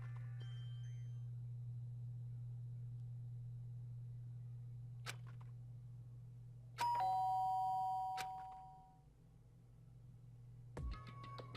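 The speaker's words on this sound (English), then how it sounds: "did I hear the doorbell?" A doorbell in the video game Danganronpa Trigger Happy Havoc sounds with a bright ringing chime near the middle, then a second short ring at the end, over a steady low hum.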